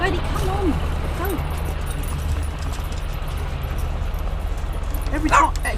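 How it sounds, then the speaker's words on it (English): A pet dog named Lady at home gives short yips and whimpering barks in a few bursts over a steady low hum, with a sharper bark near the end; people talk nearby. "Every time I get a camera out, she starts barking."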